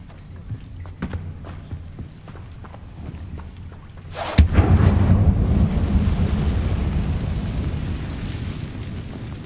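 The Incendio fire spell in Hogwarts Legacy bursts with a sharp crack, then a loud rushing roar of flame that lingers and slowly fades, following a stretch of quieter ambient noise and scattered light taps.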